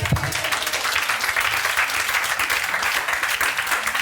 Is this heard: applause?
yes